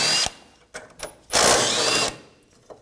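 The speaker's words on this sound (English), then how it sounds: "Then we'll take those two 10mm out. Just use a 10mm socket." A 10mm socket wrench works bolts loose on a Ford Escape AC condenser, giving short bursts of close metallic ratcheting separated by gaps, one longer spell in the middle.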